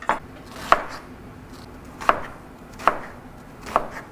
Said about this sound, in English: next we're going to start chopping up the onions.